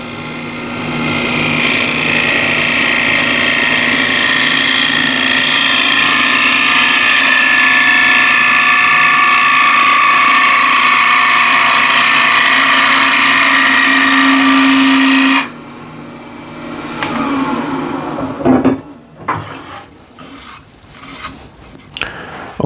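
A yew wood box turning on a lathe under a cutting tool gives a steady, loud rasping whir for about fifteen seconds, then stops abruptly, leaving scattered knocks and handling sounds.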